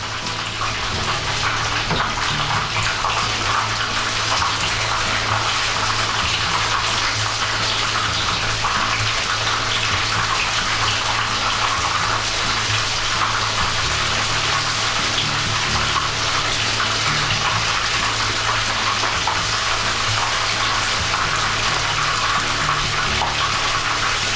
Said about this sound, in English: And let's fry them for about 1 minute on each side.